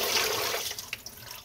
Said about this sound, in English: So we're gonna put this in running water for a second.